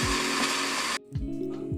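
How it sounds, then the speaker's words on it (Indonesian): A kitchen blender grinds plant ingredients with added water for a homemade botanical pesticide, a loud steady whirring that cuts off abruptly partway through, followed by quieter rattling and a few low thumps. "Kemudian ditambahkan air secukupnya, lalu blender hingga halus."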